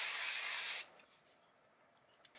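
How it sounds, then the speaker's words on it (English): A single close, loud hiss of hair spray on the hairline of a red wig, lasting under a second and then cutting off to near silence with a faint tap at the end. "I will add a little bit of spray for melting purposes"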